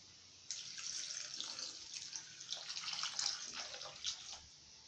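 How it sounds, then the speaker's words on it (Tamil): Water pours steadily into a pan of sautéed radish for South Indian mullangi sambar, a continuous close splashing trickle lasting about four seconds with no talk. "இப்போ இது வேக தேவையான தண்ணீர் விடணும்."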